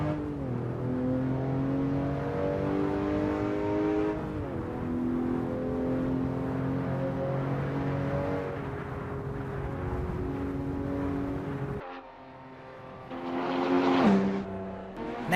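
A car engine drones steadily on the Emerald Bay track in Assetto Corsa, its pitch climbing and dropping through gear changes before cutting off and then roaring briefly again, loud and close with no talk.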